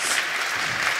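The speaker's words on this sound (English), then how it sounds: "Round of applause." A brief burst of applause from an audience at a children's show-and-tell day at a Python conference, steady and fairly loud clapping filling the whole moment.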